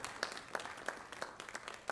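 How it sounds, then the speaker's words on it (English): Audience applause at a school committee meeting, a steady patter of many hands clapping with irregular louder claps scattered through, filling the room at moderate volume without speech. "They deserve a big round of applause"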